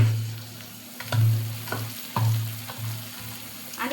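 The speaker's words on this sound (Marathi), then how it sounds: "आता ह्याला ना आपण मस्त असं ह्या दगडाने बारीक करून घेऊ" A stone crushes ingredients with several heavy, thudding blows spaced about half a second apart, close up, over a low steady hum.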